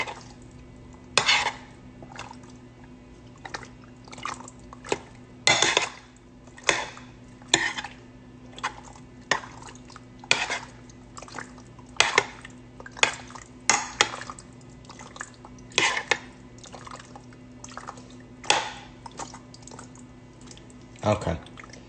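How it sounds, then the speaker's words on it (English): A spoon scrapes and clinks against a pot while stirring rigatoni with meat sauce, irregular knocks and scrapes spaced a second or two apart over a low steady hum, close and fairly loud. "now you're gonna get a spoon and mix it around"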